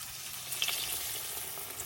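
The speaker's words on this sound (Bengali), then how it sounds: "এখন আমি বড়াগুলা ভাজা নিয়াম।" Potato mala bora, spiral potato fritters, frying in hot oil, with a steady close crackling sizzle and a few brighter pops near the middle, no talking.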